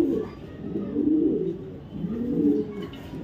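Racing pigeons of Dutch and Belgian bloodlines cooing close by, with two low rolling coos in steady succession and no voices.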